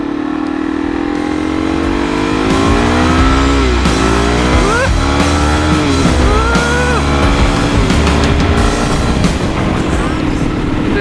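A Suzuki DRZ400 dual-sport motorcycle accelerates hard up through the gears to fifth, its engine note climbing in pitch, dropping briefly at each shift and rising again, loud and close throughout.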